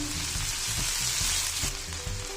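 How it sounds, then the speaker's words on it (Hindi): Garlic ginger paste fries with browned onion in a pan, a loud continuous hissing sizzle with soft rhythmic stirring thumps underneath, no talking. "अब इसमें हम लोग लहसुन अदरक का पेस्ट डाल देंगे। इसको पकाएंगे 1 मिनट तकरीबन"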